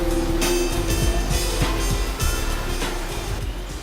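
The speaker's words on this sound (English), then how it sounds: "What you hear is our 30-foot waterfall right down the path" A 30-foot waterfall in a rainforest conservatory pours in a steady, dense roar of rushing water, broadband and continuous with small splashing surges, heard from a short way down the path.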